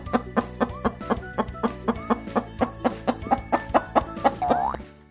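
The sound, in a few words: chicken clucking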